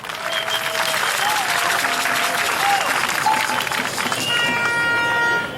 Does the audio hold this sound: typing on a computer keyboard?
no